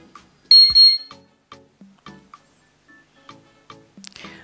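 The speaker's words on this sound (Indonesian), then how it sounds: "alarm akan berbunyi, lampu akan nge-flash" A Bardi smart home security alarm sounds: short electronic beeps and chirps repeat at irregular intervals, with a brief louder alarm burst near the start, mixed with faint clicks.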